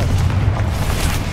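A Confringo fire spell blast in Hogwarts Legacy on PS5: a sustained, loud low rumble with dense booming energy, a continuous fiery roar throughout with no talk.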